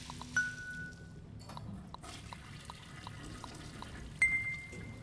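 Toilet flushing in the video game Aperture Desk Job, a soft continuous watery pour and trickle with faint drips, quiet and steady, broken by a couple of brief electronic tones.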